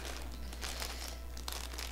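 Plastic bag being folded over while cupcakes are packed, giving a steady close crinkling and crumpling with a few sharper crackles, no talking.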